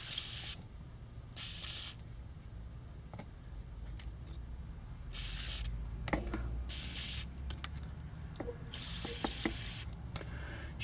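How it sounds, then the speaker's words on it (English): WD-40 sprayed onto the wheel pins of a Takara Transformers G1 Aerialbot Airraid toy, several close hissing bursts of about a second each, separated by small clicks and handling noises. "let's douse these with WD-40."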